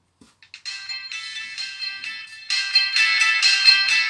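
A Sony Ericsson W302 mobile phone ringtone plays a bright electronic melody, starting softer and growing louder and fuller partway through, with no voices.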